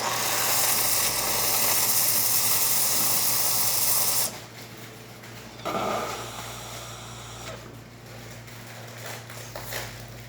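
A Jura Giga 6 coffee machine steaming milk after a full service: a loud, steady hissing spray for several seconds, then it drops off to quieter intermittent hisses and mechanical noises.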